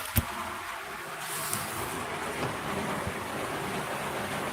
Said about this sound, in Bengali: যে কি পরিমাণে বৃষ্টি হইতেছে